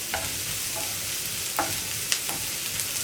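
Sliced onions and green chillies fry in a pan for an egg roast, giving a steady close-up hiss. Several sharp scrapes of stirring break through it, and no voices are heard.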